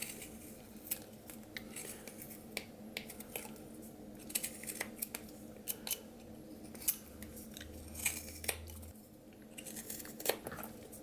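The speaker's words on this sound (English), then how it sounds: "I'm just going to kind of come in here and start removing some of the wood" Knife blade whittling wood while carving a mountain lion figure, a steady series of short close scraping and snicking cuts, some sharper and louder than others, with quiet room tone between strokes and no talking.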